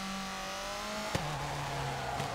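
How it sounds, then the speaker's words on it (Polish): Subaru Impreza rally car engine in WRC 4, labouring uphill on a rally stage: a steady, strained drone with a droning tone that drops in pitch partway through, faint and continuous. "Męczy się ten samochód pod tą górkę tu niesamowicie."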